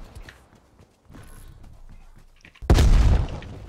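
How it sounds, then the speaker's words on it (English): A frag turret explosion in Black Ops Cold War bursts loud and close after a stretch of quieter game noise and footsteps, its heavy boom ringing out and fading over about a second. "Ooh, a frag turret kill."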